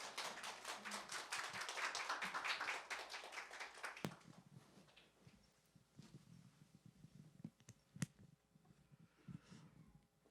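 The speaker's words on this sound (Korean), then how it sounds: "박수로 할렐루야 이렇게 인사하겠습니다" A church congregation at an Easter Sunday service claps together in a dense, loud burst of applause that fades after about four seconds, leaving scattered taps and light shuffling in a quieter room.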